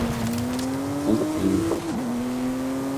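A race car's engine drones steadily in the video game Forza Horizon 5, with the tone dipping and wavering as the car brakes into a corner before settling again; loud and close, no talk.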